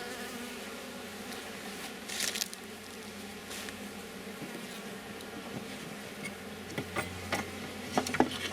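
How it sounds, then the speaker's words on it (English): Honeybees humming steadily inside an open Layens hive during a nuc-to-full-size transfer, a dense continuous drone with a few brief louder passes close by. "there's a lot of bees in here"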